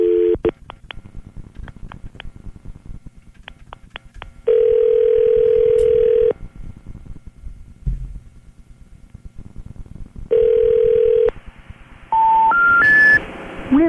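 Telephone call attempt to a 214 number, with a steady dial tone, runs of quick touch-tone dialing beeps and clicks, then a rising three-note error tone, loud and close throughout.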